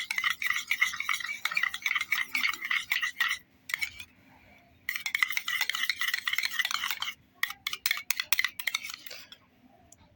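A spoon scrapes and swirls through a homemade aloe vera face mixture in a small bowl, in close, rhythmic bursts of stirring separated by brief pauses.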